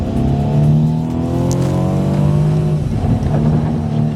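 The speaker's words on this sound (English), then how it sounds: "Let's try the Sport Plus mode and see what this acceleration's like." A 2017 Mercedes C300 Coupe pulls hard in Sport Plus mode on slick, snowy roads with snow tires, its engine note climbing steadily through strong rising harmonics, loud and continuous from start to finish.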